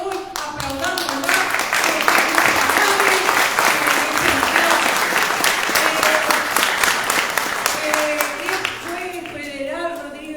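An audience applauds at the opening of a national meeting on debt and the IMF. The clapping is dense and sustained for about ten seconds, with a voice heard over it.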